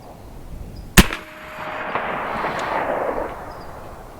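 A Zeus air-powered 12 gauge shotgun fires double-aught buckshot once, a sharp loud crack followed by a rushing outdoor echo that fades over a few seconds.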